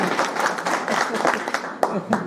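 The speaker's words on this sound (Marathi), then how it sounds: "हे बोलले याच्यासाठी टाळ्या वाजवा" Applause from the crowd at a 1991-batch high school reunion in Tembhurni: dense, steady clapping across the whole stretch, mixed with voices talking over it.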